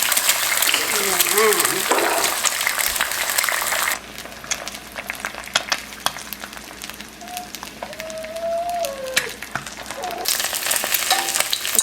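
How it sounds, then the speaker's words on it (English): An egg frying in olive oil in a pan, a steady sizzling crackle that swells loud, drops quieter mid-way and rises again, while people talk over it. "So let's add in some oil and let's add our egg."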